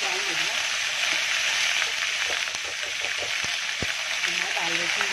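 Garlic sizzling in hot oil in a home kitchen, a steady bright crackle and hiss running throughout, while someone speaks over it.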